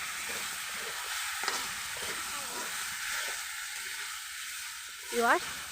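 Mashed taro leaves sizzle while stirred in hot oil, a steady close frying hiss with soft stirring scrapes, and a voice briefly speaks near the end.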